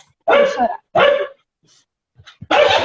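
Pet dogs at home give two loud barks in close succession, a short pause with faint sounds, then a third bark, all near and prominent.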